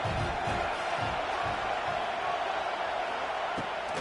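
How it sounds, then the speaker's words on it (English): Home crowd cheering at a football game, a steady distant roar of many voices with occasional louder bursts, continuous throughout. "how nice is it to have the home crowd going absolutely bananas"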